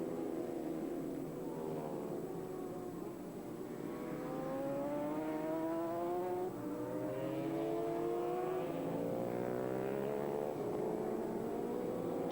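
Suzuki racing motorcycles at the 1997 Bol d'Or, engines wailing and rising in pitch as several bikes accelerate and pass, steady and moderately distant with layered overlapping engine tones and no talk.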